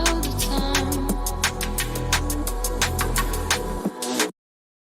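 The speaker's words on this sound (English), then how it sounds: "So now let's play this patch with the track being high passed." A Serum synth bass patch plays over a track with a high-pass filter applied, giving sustained low tones under steady percussive hits before everything cuts to silence, with no voice.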